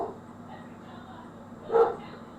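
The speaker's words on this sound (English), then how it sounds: "I'm just going to see what the barking dog is up to, because he's barking his head off." A dog barks once, a single short bark partway through, faint and somewhat distant against a quiet indoor background.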